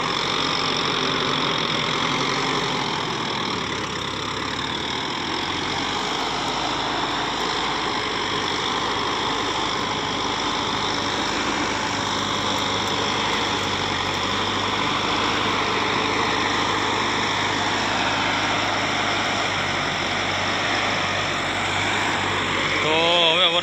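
A 75-horsepower tractor engine runs steadily nearby, a continuous mid-pitched drone with low rumble and faint knocking, holding even throughout with a slight rise at the end.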